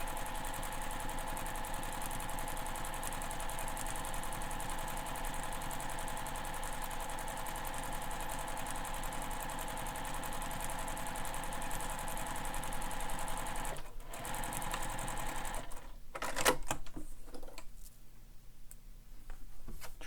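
A sewing machine stitches a backpack seam at a seam allowance, its rapid, even mechanical whirr running steadily and close up for most of the time before stopping and giving way to scattered handling clatter.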